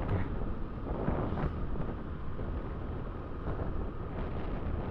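Strong wind buffeting while riding a motorbike fast, a continuous low roaring rush with gusty surges that stays loud and close throughout, with no talking.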